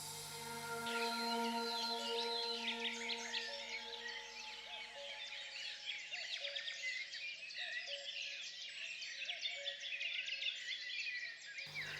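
Blue tits and great tits, among other garden birds, sing and chirp in a bird-friendly garden, with dense overlapping twittering at moderate distance over a low steady hum that stops near the end.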